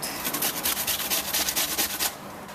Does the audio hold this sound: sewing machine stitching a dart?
no